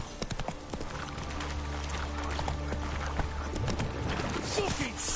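Galloping hooves of the horse Roach in The Witcher 3, a rapid steady clip-clop running throughout under continuous game music and effects, with a voice talking over it at times.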